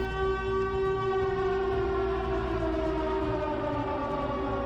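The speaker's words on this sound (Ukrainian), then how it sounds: "Я почув сирену" A loud, sustained siren wails continuously with a steady rising-and-falling drone, close and dominant, with no talk over it.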